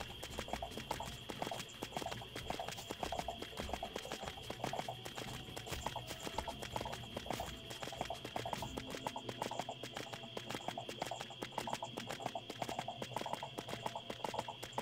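Steady clip-clop of horse hooves at a brisk walking rhythm in the video game EverQuest II, with a constant high tone and soft ambient noise beneath, no talking.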